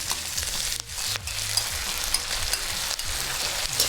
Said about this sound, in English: We'll stir fry to mix for just 20 to 30 seconds